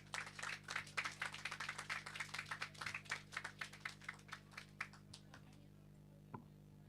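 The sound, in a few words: audience applause for a school pupil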